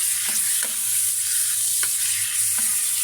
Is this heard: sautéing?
yes